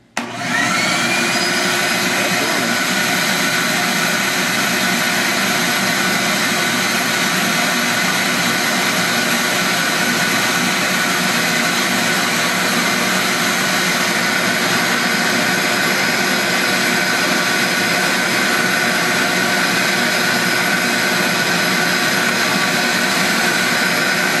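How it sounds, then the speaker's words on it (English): A shop vacuum in a bee vacuum system roars to life and runs continuously at a loud, steady whine with a droning motor hum, no pauses and no talking. "we're fixing to start the shop vac again. Makes a lot of noise"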